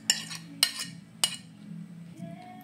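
Mashed banana being stirred with a metal utensil in a bowl for banana cake batter, three sharp clinks against the bowl over soft scraping, close by and alone.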